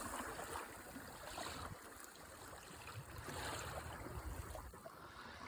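Broad, steady rush of flowing water on the Rappahannock River in Virginia, a continuous outdoor wash with low rumble and airy hiss, no voices.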